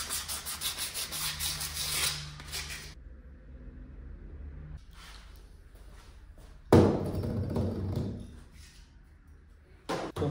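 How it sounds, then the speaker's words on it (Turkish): Light hand sanding of a brake lining surface: close, steady rubbing strokes in short bursts, broken by quieter gaps and one sharp knock partway through. "yüzeysel hafiften zımparalıyoruz."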